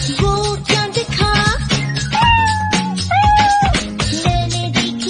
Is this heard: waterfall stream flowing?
no